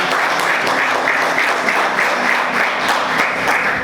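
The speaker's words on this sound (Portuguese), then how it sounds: "Vamos aplaudir Jesus bem forte" A church congregation applauding together, a loud, dense burst of clapping that fills the whole stretch without a break, close and sustained.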